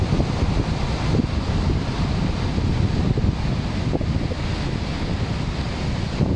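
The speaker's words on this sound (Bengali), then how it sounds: "অন্য অন্য দিনের তুলনায় আজকে সাগরে অত্যন্ত বেশি এবং বড় বড় ঢেউ আসতেছে।" Large Atlantic Ocean waves surge and crash continuously, a loud, dense roar of surf mixed with wind buffeting the microphone, with no voices.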